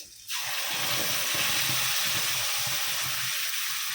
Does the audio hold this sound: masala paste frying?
yes